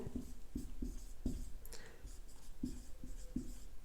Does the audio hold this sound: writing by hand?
yes